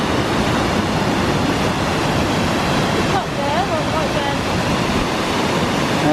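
A waterfall in Corrieshalloch Gorge, Scotland, cascades down into a deep hole, a loud constant roar of rushing water heard from a viewpoint above, with a brief voice faintly audible partway through.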